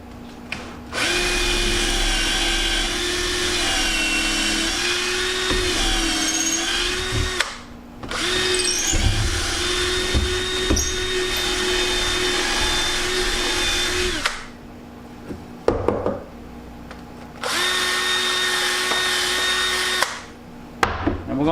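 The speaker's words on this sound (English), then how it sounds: "you kinda wanna probably go in here and kinda bore it out a little bit so your screws will go through it a little bit easier" A power drill bores into a shed deer antler in three long whining runs, each several seconds long with brief pauses between, close and loud with a steady high motor pitch.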